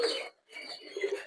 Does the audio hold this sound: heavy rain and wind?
no